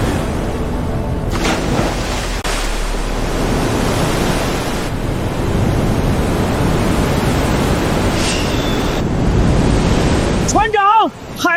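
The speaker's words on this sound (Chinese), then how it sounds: "海浪朝这边来了，浪好大！" Huge ocean waves roll toward a fishing boat at sea at night, a loud, continuous broadband roar and rush like surging water and wind that swells for several seconds and ends in a brief clattering burst.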